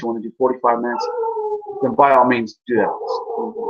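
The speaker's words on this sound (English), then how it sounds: "Sorry about the dog in the background." A dog howls and whines in the background behind someone speaking steadily in the foreground, the drawn-out canine cries blending under and between his words.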